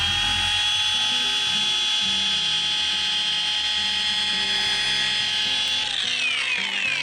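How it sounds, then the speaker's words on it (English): A car paint polisher fitted with a waffle pad runs with a steady, close, high whine that holds evenly, then dips and shifts in pitch near the end, with no talking. "I can rectify that by just putting the edge of the polisher on it."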